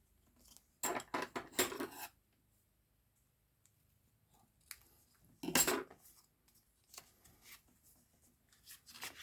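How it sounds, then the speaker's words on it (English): Scissors snipping a paper strip for a handmade card, a few crisp close cuts in quick clusters with quiet handling sounds and pauses between. "and then snip it off with some scissors."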